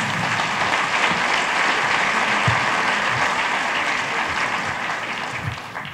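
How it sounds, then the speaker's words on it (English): Sustained applause from an audience at an all-candidates councillors' debate in West Vancouver, a dense, steady clapping that fills the room and tapers slightly toward the end. "And to great applause from the audience for the opening statements"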